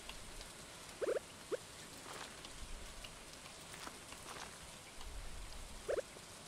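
Rain falling in the farming video game Stardew Valley, a soft steady patter with a few sharper drip-like ticks scattered through, quiet and without talk.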